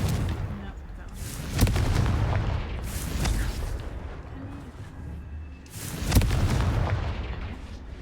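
Confringo blasting spell from a Harry Potter video game, two heavy booming explosions a few seconds apart with rumbling tails, loud and close over ambient game sound.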